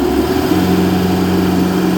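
A Tata 1109 BS3 truck's turbocharged diesel engine runs at full throttle, a loud, steady, droning roar with a strong low hum that holds constant throughout, with no voices.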